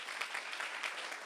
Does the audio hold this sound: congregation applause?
yes